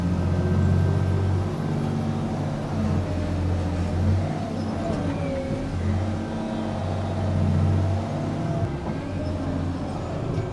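A heavy tracked dozer fitted with new 27-inch grousers pushes in first gear, its deep engine drone steady and loud throughout, with low rumbling harmonics and clanking undertones and no speech.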